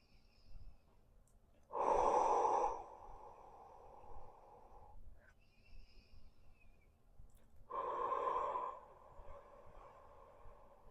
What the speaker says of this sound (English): Okay, let's go 2 more breaths.